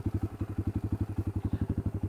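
A Honda 300EX sport quad with an FMF full exhaust, Can-Am air filter and jetted carburetor idles nearby, a loud steady thumping single-cylinder putter with an even, rapid rhythm.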